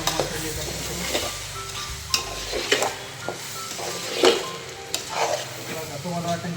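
A spoon stirs pulav rice in a pot, with scraping strokes, soft sizzling and several sharp clinks of metal against the pan at irregular intervals, close up and with no voice.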